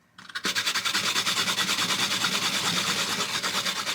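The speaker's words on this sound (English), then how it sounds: "I'm gonna grate this half stub of ginger" A half stub of ginger is grated against a grater, a loud rapid rhythmic scraping that starts after a short pause and continues steadily up close.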